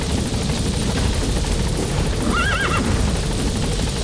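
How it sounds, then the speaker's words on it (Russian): A horse neighs in Metal Gear Solid 5, a clear rising and falling whinny near the middle, set over a steady loud helicopter rotor drone and game noise. "А, это конь."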